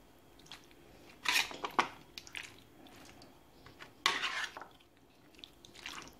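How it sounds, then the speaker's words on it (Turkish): Raw chicken pieces and chopped vegetables being tossed together by hand in a baking tray, giving soft, wet squishing and occasional clinks against the tray, quiet and close, in irregular bursts. "Şimdi tavuk etleriyle birlikte güzelce harmanlayalım tepsimizin içerisinde."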